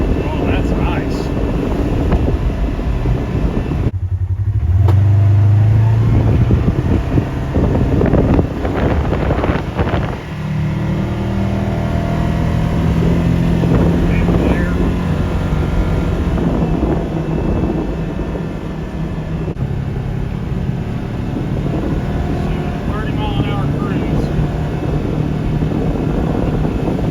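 A 2024 Polaris RZR XP 4 UTV fitted with a Gilomen clutch cruises along, its engine and drivetrain giving a continuous loud rumble buffeted by wind noise, with occupants talking over it.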